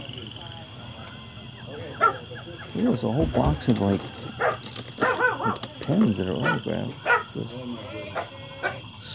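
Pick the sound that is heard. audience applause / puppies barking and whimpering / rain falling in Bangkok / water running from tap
puppies barking and whimpering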